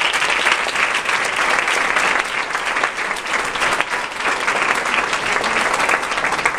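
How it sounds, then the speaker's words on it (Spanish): Audience applauding graduates at a high school ceremony, dense sustained clapping from a large crowd filling the whole stretch at steady volume without pause. "Un aplauso para ustedes."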